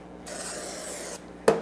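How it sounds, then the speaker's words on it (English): Cooking spray hisses steadily for about a second into a 9-inch square baking pan in a home kitchen, followed by a short clatter of the can or pan. "So I'm going to spray the inside."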